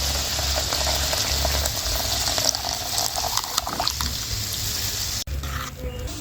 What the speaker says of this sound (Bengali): সরষে গোলা জলটা দিয়ে দেবো।